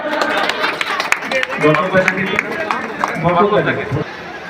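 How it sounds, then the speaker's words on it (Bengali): Loud clapping from a gathered crowd at a Chhath Puja felicitation in Sonarpur's Ward 35, a dense steady patter over nearly five seconds mixed with people talking over it. "জোরে হাততালি হয়ে যায়"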